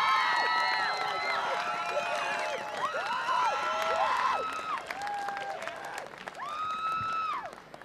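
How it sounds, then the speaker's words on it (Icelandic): An audience at a Friday-night show cheers and claps for a young performer taking the stage, with loud whoops and shrill shouts riding over the applause before it thins out toward the end. "Þá skulið þið bara gefa honum Birki Blæ gríðarlega gott klapp."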